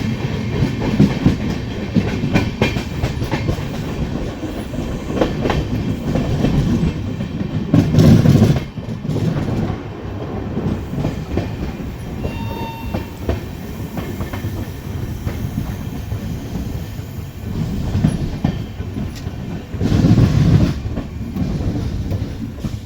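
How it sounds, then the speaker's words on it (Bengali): The Howrah to Varanasi Amrit Bharat Express rumbles into Bandel Junction with a loud, continuous roar of wheels and coaches, and a few heavier surges of rattling along the way. "ট্রেন এসে পৌঁছালো ব্যান্ডেল জাংশনে"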